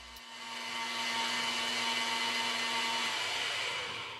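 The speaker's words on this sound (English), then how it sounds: "if you were to try to drill a standard 13/16 hole, I can assure you it wouldn't go anywhere as fast as this" A BDS Maschinen MAB 485SB magnetic drill cuts a 13/16 hole through steel, a steady loud high-pitched whirring grind that holds continuously throughout, close up with no talking.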